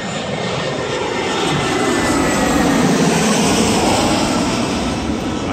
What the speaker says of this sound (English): Sorry, I'll let that plane go by.